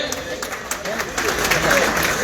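Audience applause at a Patna press conference, a steady wash of clapping that swells slightly toward the end, with voices mixed in.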